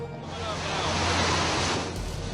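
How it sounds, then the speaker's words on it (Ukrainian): Heavy hurricane surf roaring steadily, giant waves surging through streets, a thick wash of crashing water and wind noise filling the whole moment without pause. "Стихія вирувала так, що гігантські хвилі здіймались просто на вулицях"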